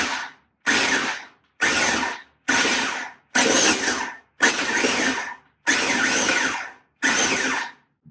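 A blender pulses cranberries with lime juice in eight sharp bursts, each roughly half a second to a second long with short silences between, loud and close with no voices.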